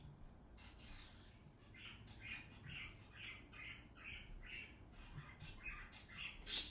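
Birds calling in the background outdoors, a faint series of repeated squawking chirps at a regular pace, distant and thin against a quiet room hum.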